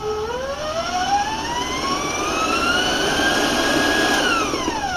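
An electric stand mixer with a paddle beats cake batter for a skillet streusel cake. Its loud motor whine climbs steadily in pitch as the speed is raised, holds high, then starts to drop near the end.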